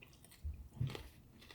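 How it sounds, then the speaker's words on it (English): Fried, lightly breaded buffalo wings are bitten and chewed up close, giving a couple of soft crunches followed by quieter mouth sounds, with no talking. "You can hear that crunch."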